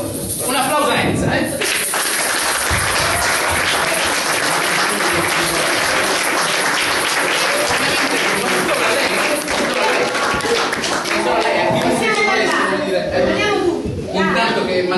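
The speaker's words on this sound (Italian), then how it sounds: "Un applauso a Enza," Lively applause from an audience at a Sicilian music gathering fills the whole stretch, dense and close, with scattered voices and chatter mixed into the clapping throughout.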